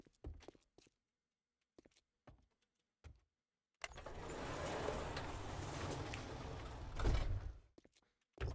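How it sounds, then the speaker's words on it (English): Military truck engine in the survival game 7 Days to Die starts up and idles with a loud steady rumble for several seconds, preceded by scattered clicks and thumps, then cuts off. "Didn't know there was a military truck here."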